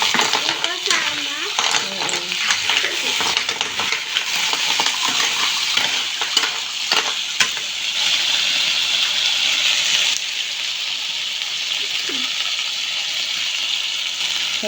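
Water is poured into a cooking pot during home cooking, a splashing gush with clinks of a ladle and utensils, while people talk nearby.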